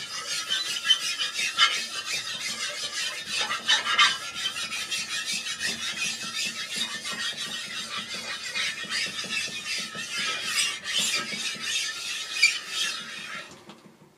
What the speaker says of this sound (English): Now I will smooth the surface using a steel parallelepiped.